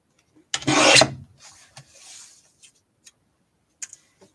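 A paper trimmer blade is drawn through a sheet of cardstock in one short rasping slide, followed by a softer scrape and a few light ticks and taps as the card is handled, close up with no talking.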